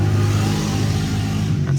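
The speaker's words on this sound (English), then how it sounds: "Got some traffic here." Steady engine rumble of a car going by close at hand, a continuous mid-pitched drone with a slight swell near the end, heard alone without voices.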